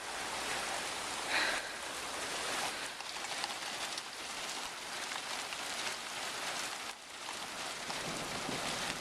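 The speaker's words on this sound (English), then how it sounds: "Lots of rain now." Heavy rain from a sudden thunderstorm in Pine River, Minnesota pours down in a dense, continuous hiss, loud and close, with no pauses.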